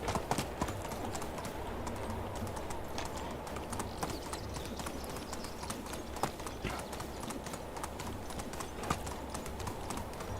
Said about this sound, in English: Yeah, I hear you, horse.